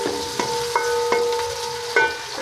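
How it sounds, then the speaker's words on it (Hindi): Chopped onions fry in hot oil for village-style kadhi pakora, giving a steady close sizzle with sharp stirring clicks and a faint tonal hum underneath. "आयल थोड़ा गर्म हो गया, इसमें प्याज पा देने हैं।"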